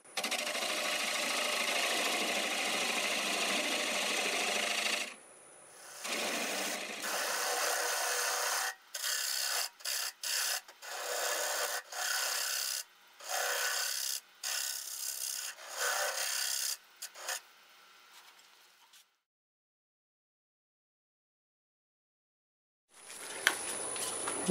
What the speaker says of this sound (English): I'm going to go ahead and remove that tenon. Got a half-inch bowl gouge.